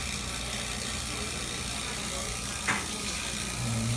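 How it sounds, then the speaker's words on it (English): A vacuum pump runs steadily on a True T-49F two-door commercial freezer's refrigeration system during rebuild, a constant low mechanical drone with one brief click partway through and a slight rise near the end. "Vacuum pump going."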